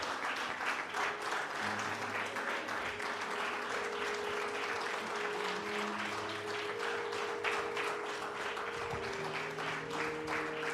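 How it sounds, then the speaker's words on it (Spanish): Sustained applause from a church congregation, dense and steady clapping filling the room for about eleven seconds, with faint sustained tones beneath it. "Aplauso al Rey de Reyes"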